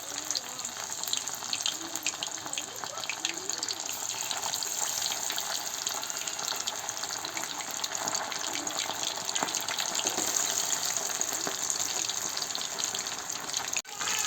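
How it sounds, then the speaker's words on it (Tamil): Fish sizzling in hot oil in a small kadai, a steady bright hissing crackle that holds evenly throughout, close and moderately loud with no talk. "நல்லா எண்ணெய் காஞ்சிருச்சு. இப்போ நம்ம மீனெல்லாம் போட்டுக்கலாம்."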